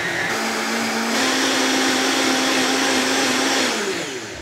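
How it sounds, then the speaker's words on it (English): A blender with several speeds whirs steadily, loud and close, as it purées a green herb marinade for roast chicken, the motor rising in speed after about a second and holding before winding down. "You always start slow if you have a blender with many speeds, and then you build up speed, and that way everything gets mixed in."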